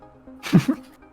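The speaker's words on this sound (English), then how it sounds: "That was a sneeze." One short, sharp sneeze bursts out close to the microphone amid quiet podcast room tone, a quick airy blast with a brief second puff right after.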